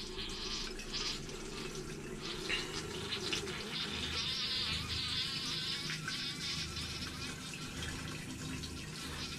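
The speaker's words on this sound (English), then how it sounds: "just the pump." RV trailer water pump running during winterizing, a steady buzzing whine with water rushing, continuous and fairly close, with no talking.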